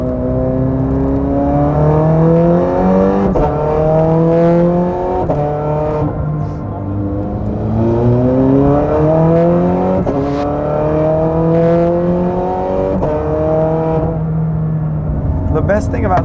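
Straight-piped Ferrari engine accelerating hard on a road, loud and close, climbing through revs in repeated pulls with gear changes between them, the engine note rising and dropping several times.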